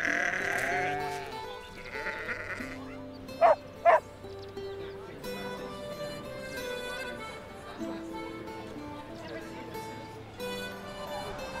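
Sheep bleat on the Blasket Islands, a couple of sharp calls near the middle rising above a steady bed of music-like tones, fairly faint and distant.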